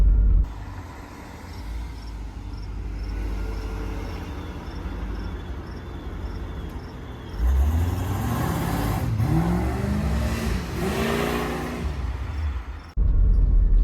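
1985 Chevy Corvette back on the road after sitting parked for 20 years: a steady engine drone under road and tire noise builds into hard, loud acceleration with rising revs through gear changes.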